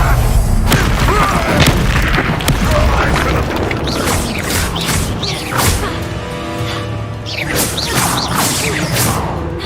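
Incendio fire spell cast in Hogwarts Legacy, a loud burst of booming, whooshing combat effects with impacts and crashes layered over constant battle noise.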